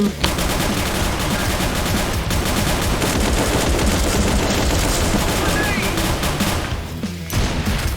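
Rapid gunfire in the online shooter Bullet Angel, continuous automatic bursts filling the whole stretch with a short break near the end, loud and dense.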